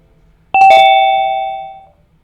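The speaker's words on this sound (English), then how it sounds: "Hey, I heard a ding dong." A single two-tone doorbell chime, a bright ding followed by a lower dong that rings out and fades, heard nearby in a quiet room.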